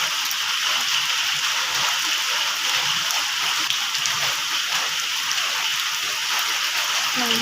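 Heavy rain during a cyclone pours down steadily, a dense, constant hiss of drops hitting surfaces that stays loud and unbroken from start to finish, with no voices.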